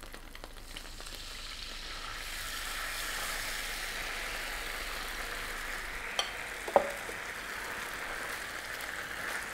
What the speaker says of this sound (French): On va le verser dans la même poêle.